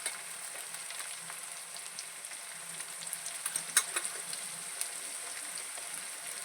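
Onions browning in hot oil with red chili powder for a home-style desi chicken curry, a soft steady sizzle and crackle with scattered small pops, close by and without speech.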